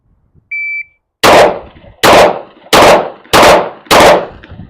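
Five pistol shots fired at a target on a range with a red dot sight, loud, evenly spaced sharp reports following a short electronic beep, no talking.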